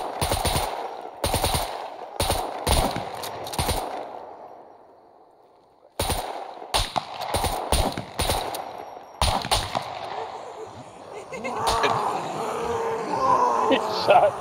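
Bursts of rapid automatic gunfire in the SCUM video game, several sharp volleys separated by short pauses, loud and close, with a brief quiet gap midway and noisier scuffling at the end.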